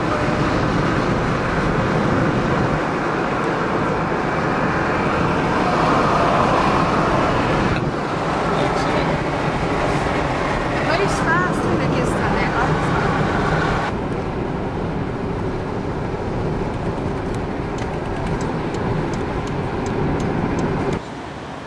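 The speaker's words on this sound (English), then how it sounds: "driving down the freeway towards Haifa" Car driving down a freeway toward Haifa, Israel, with steady, loud road and engine rumble throughout, shifting in tone as traffic passes, and no talk.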